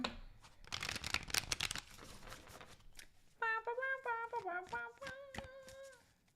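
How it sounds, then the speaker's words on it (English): Tarot cards riffle and slap together in a close, busy burst of shuffling, followed by bright tonal sounds in the background. "All right, last shuffle."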